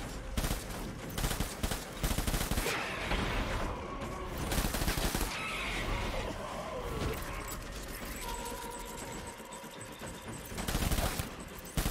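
Dense, continuous rapid gunfire from the video game Death Stranding, loud and sustained throughout with overlapping bursts and in-game effects.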